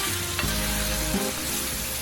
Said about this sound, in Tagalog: nag-render na rin ang fat ng meat at kasalukuyan itong napiprito sa sarili ng mantika